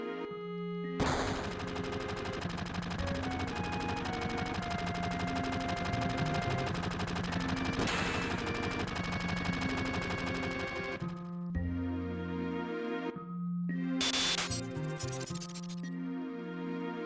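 Machine gun fire rattles in Final Fantasy VII as a rapid, steady burst of shots over game music, breaking off and then returning in shorter bursts near the end.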